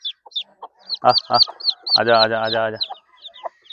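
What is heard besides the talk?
chickens clucking on a farm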